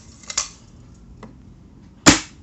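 A sharp, loud pop of a spring-powered Tokyo Marui VSR-10 airsoft sniper rifle shot at about 303 fps, preceded by fainter clicks and a soft tap, heard alone without talk.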